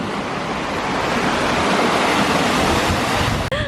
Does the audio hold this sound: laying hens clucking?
no